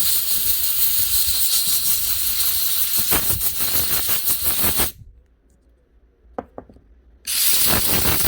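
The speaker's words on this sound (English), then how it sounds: "Give it a wee blow out with the compressor once in a while to keep it clean." Air compressor nozzle blowing dust out of a power tool under repair: a loud, steady hiss for about five seconds, then a quiet break with a couple of faint clicks, before the blast resumes at full force.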